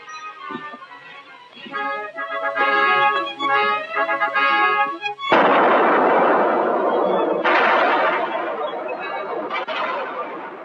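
Gunshots ring out in a tunnel during a Western film, loud sharp reports echoing over a music score, with a sustained noisy burst of echoing shots in the second half.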